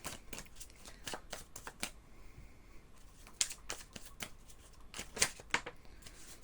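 Tarot cards are shuffled by hand at close range, giving a series of soft, quick riffling flutters and snaps with brief pauses between them. Nobody speaks.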